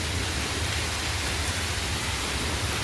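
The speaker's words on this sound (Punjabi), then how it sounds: "ਇੱਕੋ ਦਮ ਮੀਂਹ ਆ ਗਿਆ" Steady rain pours down during a sudden downpour on a hot summer day, a dense even hiss with no breaks and no voices.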